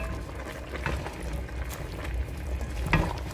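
Chopped seasoning vegetables are stirred through in a pan for Jamaican stew chicken. A soft, low sizzle runs under light scraping and a few clinks, fairly quiet and without talk.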